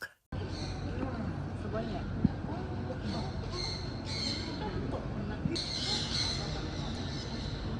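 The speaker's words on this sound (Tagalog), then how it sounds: "may dumapo na namang ibon sa akin para manghingi ng pagkain. Para siyang uwak" Harsh crow-like squawks from a nearby bird begging for food at a popular tourist spot in Japan, over constant outdoor crowd babble and background noise.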